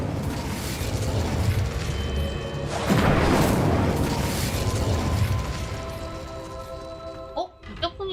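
Incendio fire spell cast in Hogwarts Legacy: a broad whooshing burst of flame erupts around the midpoint over a rumbling game soundscape, then fades, with a few sharp mechanical clicks and brief voices right at the end.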